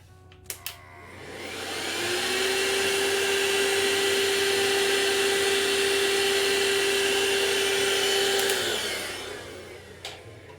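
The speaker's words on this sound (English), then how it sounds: "Let me just vacuum this again. Sorry for the noise." A vacuum cleaner switches on with a rising whine, runs loud and steady with a constant high tone for about six seconds, then winds down to silence, with a few clicks at the start and end.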